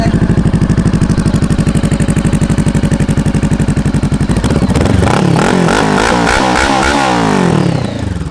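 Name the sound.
Honda CBR500R motorcycle engine starting and revving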